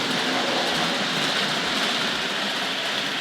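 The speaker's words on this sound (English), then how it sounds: "Let's bring the Pullman to a gentle stop at the station here" A Hornby Dublo model Pullman train rolls to a gentle stop at a station, a steady close rattle and hiss of wheels on track with no clear break in the sound.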